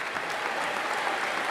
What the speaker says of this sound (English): Clap it on up. Clap it up for yourself.